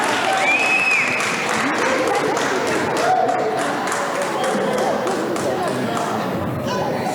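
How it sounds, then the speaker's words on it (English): An audience at a Newark school board meeting applauds, dense steady clapping filling the room throughout, with voices and cheers mixed in the crowd noise. "Let's give them a big round of applause."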